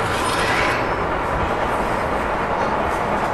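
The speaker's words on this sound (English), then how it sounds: "Look, the train is going." A toy train runs with a continuous rumbling, rattling noise, loud and close, with a steady clattering texture throughout, at a play center.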